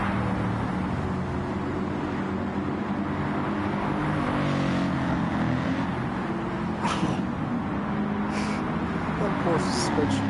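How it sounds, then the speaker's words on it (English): Race car engines and exhausts in Gran Turismo 7 drone steadily throughout, a dense continuous roar with layered engine tones and occasional brief higher bursts, loud and close. "All the trucks and all the exhausts and everything just sounds so good."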